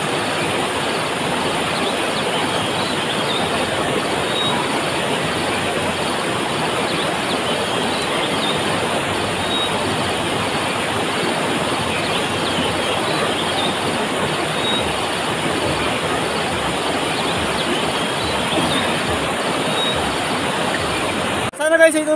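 Water of the Bantac River flows in a continuous broad rushing wash, steady and fairly loud for the whole stretch, with a brief knock at the very end.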